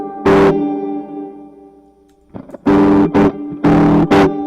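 Electric guitar chords through a spring reverb ring out in separate bursts, each trailing a springy, bouncy reverb tail, with a quieter pause between strums.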